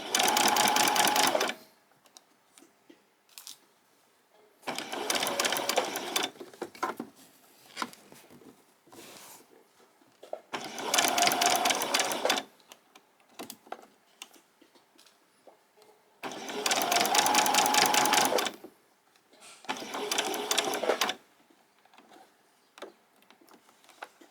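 A sewing machine stitches a straight seam on a pyjama top, running in five loud, steady bursts of a couple of seconds each, separated by short pauses with faint handling noises and no talk.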